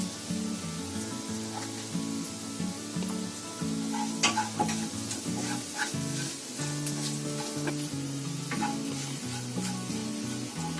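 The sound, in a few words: spices and asafoetida frying in oil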